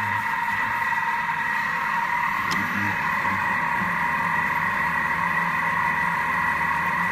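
A Thermomix turns marinated minced meat in reverse at speed 2, giving a steady, even motor hum that runs unbroken throughout at moderate volume.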